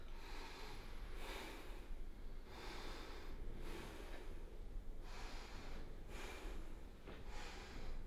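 Slow, steady breaths drawn and released in a regular rhythm during a fascial exercise with the head turned and the tongue pressed into the cheek, close and soft with a faint hiss, with no talking.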